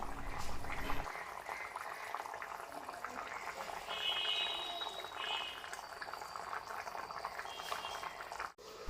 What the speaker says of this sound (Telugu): ఇంకా మనం బాగా ఉడకనిద్దాం